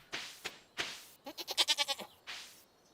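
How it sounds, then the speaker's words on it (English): Goat bleating in the Stardew Valley farming game: two short calls, then a rapid quavering run of about eight pulses, then one more call, clear and alone with no talk. "Oh, and I have a goat now."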